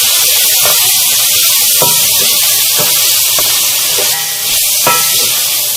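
Mutton and spices, including red chilli and coriander powder, fry in a pan, making a loud, continuous sizzle broken by intermittent stirring scrapes and clicks.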